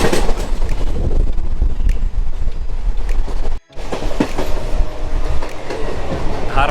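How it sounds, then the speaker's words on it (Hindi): The LTT Hubballi Express from Mumbai to Hubli rolls along with a steady, loud rumble and rhythmic clickety-clack of wheels on rail joints, heard from inside the moving train. "ट्रेन चल भी दी है"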